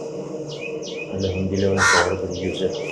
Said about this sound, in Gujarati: હવે તો કાગડાનો ને બાગડાનો અવાજ આવે છે